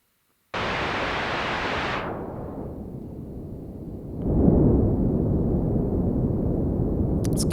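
Synthesized white noise produced in Ableton Live 11 switches on abruptly as a loud, steady full-band hiss, then gets filtered down to a duller rumbling roar before brightening partially and holding steady to the end.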